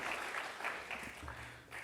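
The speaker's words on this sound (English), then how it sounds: "let's give a round of applause to everyone sitting over here" Audience applause at a real estate and construction sector summit, a fairly quiet, steady patter of clapping from a seated crowd that keeps a broad, even level for the whole stretch.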